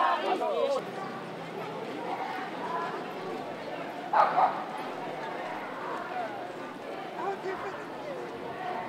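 Dogs bark amid a crowd of dog owners marching through Paris, a few sharp barks rising over constant chanting and chatter, with one louder burst of barking midway.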